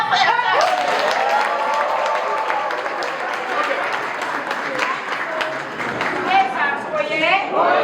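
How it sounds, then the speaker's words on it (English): A convention audience claps in a dense, sustained burst, with a voice speaking loudly over the applause throughout. "Clap for yourself!"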